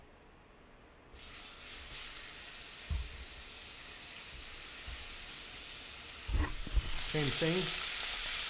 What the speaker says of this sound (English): Sear them for a little bit on each side, but don't cook them.